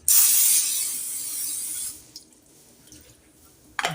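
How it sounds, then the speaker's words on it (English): A close hissing spray of aerosol butter into a bowl lasting about two seconds, followed by quiet and a brief faint click at the end. "I'm going to spray the bowl with a little pancake flavor butter"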